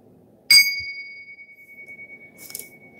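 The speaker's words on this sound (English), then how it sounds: "See my bell." A small bell gives a single clear strike that rings on with a long, pure, slowly fading tone, then a second lighter tap near the end.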